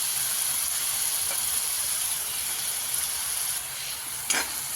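Masala frying in oil with grated coconut for an egg curry, a steady close hiss and sizzle throughout, with a brief scrape of stirring near the end.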